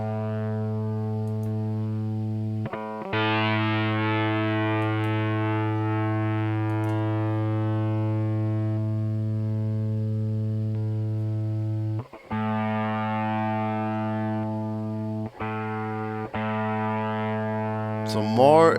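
A guitar held through lower-level distortion on a Sigma DSP ADAU1452 rings out in long sustained notes, broken by a few sharp re-picks and a bright strum at the close, with a voice briefly talking over it.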